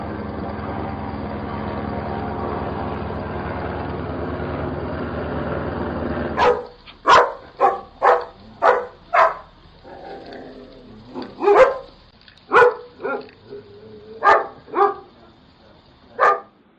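A police dog barks in a string of loud, sharp barks in quick succession after a stretch of steady background noise, close by and without speech.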